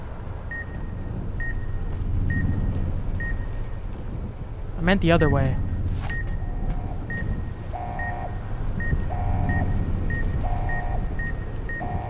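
Repeated electronic warning beeps in Fallout: New Vegas's Sierra Madre DLC, steady and evenly spaced over a low droning hum, with a brief rising tone in the middle and someone talking briefly.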